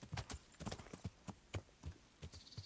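Horse hooves clip-clopping in the video game Kingdom Come: Deliverance, a steady rhythmic series of hoofbeats at a walking pace, soft and fairly close, with no talking.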